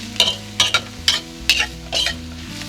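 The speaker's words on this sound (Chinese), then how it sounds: "把香菇和胡萝卜炒熟。" Shiitake mushrooms and diced carrots stir-fried in cooking oil in a wok, with a soft steady sizzle broken by about six sharp scraping stir strokes at a brisk irregular rhythm, close and alone over light background music.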